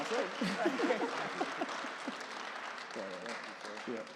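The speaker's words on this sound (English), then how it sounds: "One more round of applause for Mr. Wilson." Applause from a church congregation for Mr. Wilson, a steady wash of clapping at moderate level with voices talking over it throughout.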